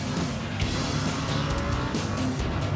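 A Lamborghini Huracan driven fast on the Ascari race circuit in Ronda, Spain, its engine a loud, steady roar filling the whole stretch with no voices.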